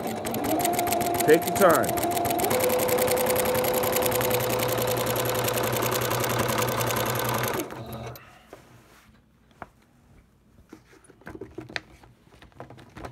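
Sewing machine stitching in the ditch along the seams of a pinwheel quilt runs in a steady, loud rapid whir for about seven seconds, then stops, leaving quiet handling noises while a person speaks briefly.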